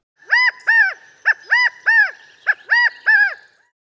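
A California quail calling, a series of about eight loud, clear, nasal whistled notes in an uneven rhythm, close and isolated against silence.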